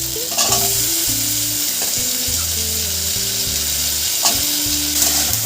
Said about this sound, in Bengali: সজনে ডাঁটা আর আলুটা ভালো করে কষিয়ে